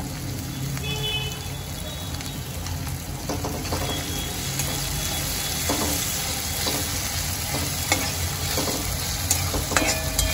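Chopped tomatoes cook with salt in a pan for upma, giving a steady soft sizzle with occasional stirring scrapes, close and moderately quiet, with no talking.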